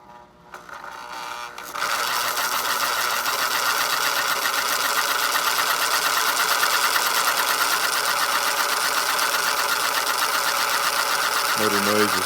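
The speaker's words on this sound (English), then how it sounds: "Motor noise is a little bit loud" A prewar American Flyer 564C toy train tender's electric motor whirs loudly and steadily after a short quiet start, a close, even mechanical hum with a few low knocks near the end.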